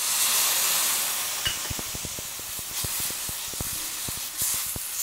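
Lemon juice poured onto hot green chilli thecha gives a steady hiss, followed by a series of sharp rhythmic taps and scrapes as the mixture is stirred, nearby and fairly quiet.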